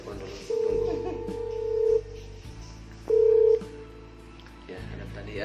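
A telephone sounds with two clear electronic tone bursts, the first longer and the second shorter, over a low background hum and faint room noise.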